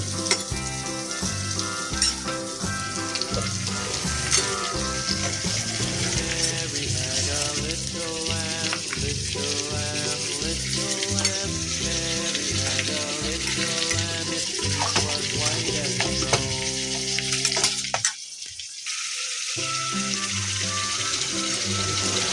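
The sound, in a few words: marinated meat frying and being stirred in a pan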